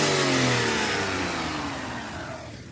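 A turbocharged Daihatsu Mira engine revs hard in neutral, loud and close, its pitch sliding steadily downward as the revs fall away over a few seconds.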